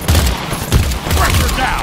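Grenade blast and rapid gunfire in the shooter game Earthfall, a loud dense burst of shots and booms lasting throughout, with a heavy thump near the start and another mid-way.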